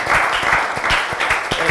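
A lecture-hall audience applauds at a talk on women in politics, a brief burst of close, dense clapping that stays even throughout with no voices.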